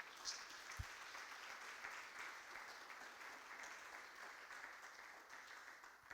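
A church congregation gives sustained applause in praise, a dense, steady wash of many hands clapping heard from a distance at low level for the whole stretch, with no clear voices over it.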